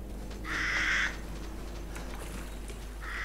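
A crow in Resident Evil Outbreak gives two harsh caws, one long and loud near the start and a second beginning at the end, over a low steady game hum with no voices.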